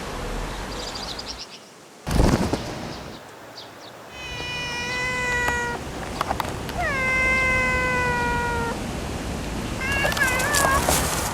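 A cat in a garden meows several times, with drawn-out wailing cries spaced across the clip, close and clear against a soft outdoor background, preceded by a couple of brief bumps.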